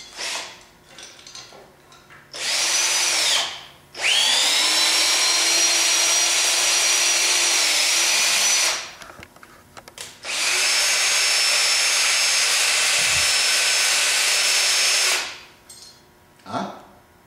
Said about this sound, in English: you can rip them out with the cordless drill nail puller